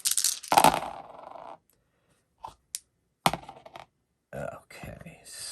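Seven dice rolled for a warhammer swing in a solo tabletop game, a brisk clatter of several small dice tumbling and settling, with a couple of brief clicks and a second short rattle, recorded close with a voice talking in between.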